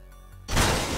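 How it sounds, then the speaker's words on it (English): A sudden loud car crash in the video game Friday the 13th: The Game bursts in halfway through after a quieter stretch, followed by a sustained roaring, crunching noise. "Oh, Mitch crashed the car"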